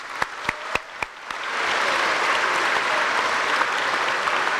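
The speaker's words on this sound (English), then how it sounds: "but a round of applause for Wade Russell" Applause for Staff Sergeant Wade Russell at a welcome home ceremony for the 1st Battalion, 188th Air Defense Artillery, opening with a few sharp single claps before swelling into sustained, full crowd clapping.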